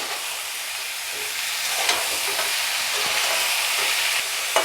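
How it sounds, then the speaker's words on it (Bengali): Vegetables coated in spices for a drumstick curry sizzle and hiss steadily in a hot pan, a broad even frying noise with faint scraping touches of stirring and no talk. "এবার এটা সবজিটাকে ভালো করে কষিয়ে নিতে হবে।"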